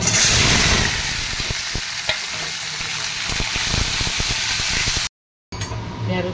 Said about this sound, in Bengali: ঢ্যাঁড়সটা আর বেগুনটা ভেজে নিয়েছি